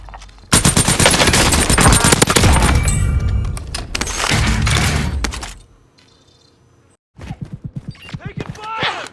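Video-game gunfire: loud, dense bursts of rapid automatic shots for several seconds, a near-silent pause, then a shorter volley of sharper shots, with speech also present in the mix.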